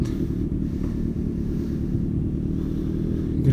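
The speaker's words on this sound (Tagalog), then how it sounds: "Grabe yung traffic dito pre." Dense road traffic in Imus with cars and motorcycles makes a constant low engine rumble and drone, loud and close, with no talking.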